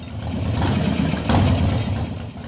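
Close up, an S&S-carbureted motorcycle engine sits just above idle with the throttle barely cracked, a continuous low throb with a brief rise in level midway, no voices over it.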